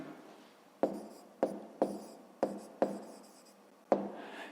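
A pen or pencil writes an answer by hand for a 5th-grade maths exercise: six quiet, sharp strokes or taps spaced about a second apart, close and alone against a faint background.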